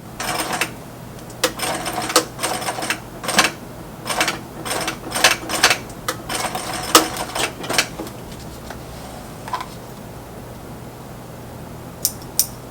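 A sewing machine stitches duffle bag seams with black thread in quick rattling bursts of varying length separated by short pauses, close and clear, with a steady low hum underneath and no talk.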